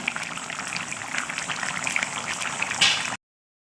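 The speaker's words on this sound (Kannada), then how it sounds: "ನೋಡಿ ಮಸಾಲೆ ಚೆನ್ನಾಗಿ ಕುದಿದಿದೆ ಸಾಂಬಾರು" Okra sambar boils in a pot, with a dense bubbling and gurgling that stays close and steady, then stops abruptly.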